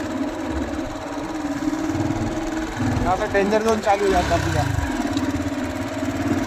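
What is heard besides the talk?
motorcycle engine running in forest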